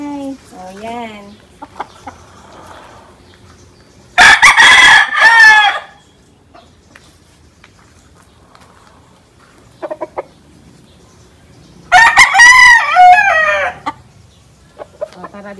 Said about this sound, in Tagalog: Tingnan niyo yung mga manok. Di ba ang gaganda?